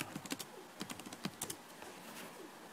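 Fast, light clicking of a computer keyboard, a few quick bursts of keystrokes close by, then fading to a soft room hiss with no talking.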